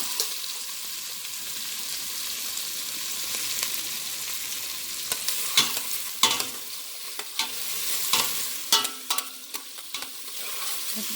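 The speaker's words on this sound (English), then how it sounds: "Just giving it a light stir so that the grease can get on the onions." Onions frying in grease in a stovetop pot for savory pot roast, a steady hiss of sizzling fat with a light spoon stirring through them, scraping clicks growing busier in the second half.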